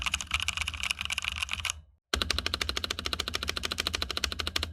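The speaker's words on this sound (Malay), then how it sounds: "And keyboard ni red linear switch. Tapi bunyi dia agak clacky." Rapid, even keystrokes clatter on a budget 60% mechanical keyboard fitted with red linear switches and no sound dampening, a bright clacky burst, a brief pause, then a longer steady run of close typing with no voices.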